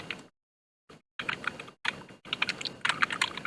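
Typing on a computer keyboard: close, crisp key clicks in short rapid bursts separated by brief silences, with no voices over them.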